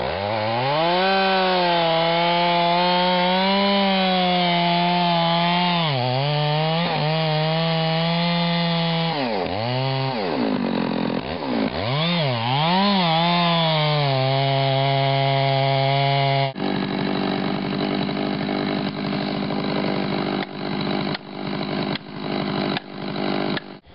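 Chainsaw plunge cutting into a poplar tree during winter logging, the engine loud and close with its pitch dipping and recovering as the bar bogs into the wood, then shifting to a rougher, choppier cutting roar.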